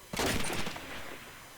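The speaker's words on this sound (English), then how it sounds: "Alex tap firing towards the middle there" Tap-fired rifle shots ring out in a competitive first-person shooter match, a loud sharp burst of a few rapid cracks followed by a fading echoing tail.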